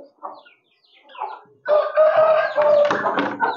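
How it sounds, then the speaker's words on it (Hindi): White hens of the Aseel breed in a coop: a few soft clucks at first, then a loud, sustained crowing call close by that fills the last two seconds. "सारी वाइट मुर्गियाँ यहाँ पर हैं।"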